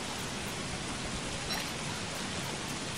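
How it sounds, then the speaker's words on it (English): Heavy rain in the survival video game Don't Starve Shipwrecked, a continuous broadband hiss of downpour, steady and fairly faint, with no talk over it. "Oh, God, the rain. It's so bad."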